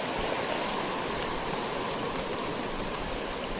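Fast-flowing river water rushes in a steady, loud broadband roar with no break, filling the scene up close.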